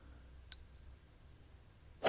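A notification bell sound effect rings once, a bright sharp ding with a long clear sustained tone that pulses gently as it fades, alone in near silence before a brief soft clatter at the end.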